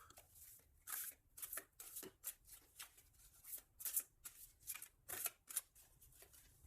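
A deck of tarot cards being shuffled and cut, with soft rapid riffles and flicks in irregular bursts, quiet and close with no talking.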